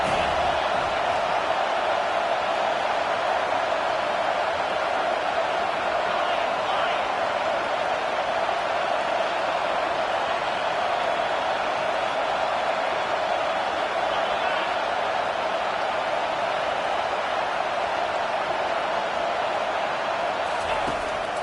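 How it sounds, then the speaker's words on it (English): Home crowd at a football game as the defense faces third down, a dense, steady roar of many voices filling the stadium without letup, heard from a distance. "Here comes this home crowd as the defense tries to get off the field on third down."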